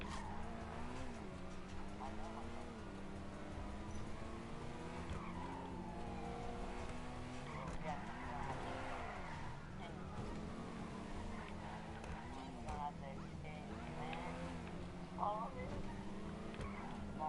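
A car in a video game drives with a droning engine that rises and falls through gear changes, with repeated tire squeals and skids over roughly seventeen seconds, steady and moderately loud.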